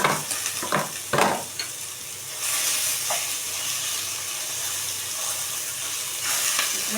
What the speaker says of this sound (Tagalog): Saka natin ilalagay ang giniling.